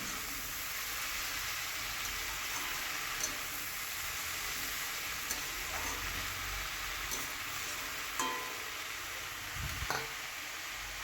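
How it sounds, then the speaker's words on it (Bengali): Leafy greens sautéing with spices in a pan, a steady broad sizzle throughout with occasional scraping clicks of stirring, close and unbroken by speech. "তো শাকটাকে ভালো করে আমি মশলার সঙ্গে কষিয়ে নিচ্ছি"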